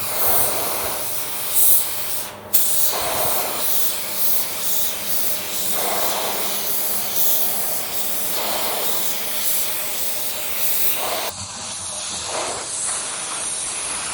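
A Drizzle Pro paint spray gun set to 19 PSI with a wide-open fan lays down clear coat, a loud broad hiss in repeated passes of a few seconds each, close and without talk.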